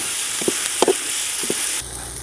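Ginger garlic paste and ground green chilli being stirred in hot oil while frying for a Kerala duck roast, a steady close sizzle with a few soft scraping stir strokes and no talk.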